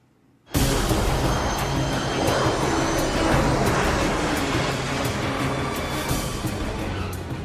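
A fixed-wing airplane drones steadily after a sudden start, its broad, loud engine roar holding without a break in a film scene of a flight to Wichita.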